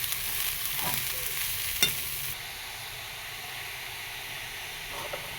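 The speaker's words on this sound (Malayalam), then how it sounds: "അതിനാവശ്യമായ ഉപ്പ് പൊടി ചേർത്ത് നന്നായിട്ട് ഇളക്കി കൊടുക്കണം" Spinach stir-fry being stirred in a pan with salt over low heat, a steady sizzling hiss with a couple of brief spatula scrapes, loud and close, no voices.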